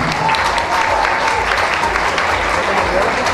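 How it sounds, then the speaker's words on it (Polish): Audience applause at a dance show in Zalasowa: dense, steady clapping that fills the whole stretch at a constant level, with faint voices mixed into the crowd noise. "Brawa."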